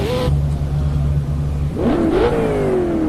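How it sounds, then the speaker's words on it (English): A GT race car engine in Project CARS at Donington revs loudly, holding a steady pitch, then climbs and slowly falls as it pulls away. "I do like the noise of that car."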